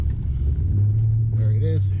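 A Range Rover Sport grinds off-road through sand and mud ruts with a low, steady engine rumble and a rising drone from inside the cabin, while a person talks over it.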